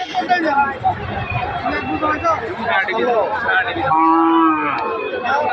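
Cattle moo loudly and close at the Khochabari cow and calf market in Thakurgaon district, one long low call standing out amid a crowd of people talking and general market hubbub.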